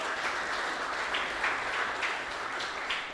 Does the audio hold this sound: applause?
yes